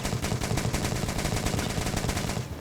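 Rapid machine gun fire from the video game Metro Exodus rattles in dense, continuous bursts of closely spaced shots, loud and close, with no speech.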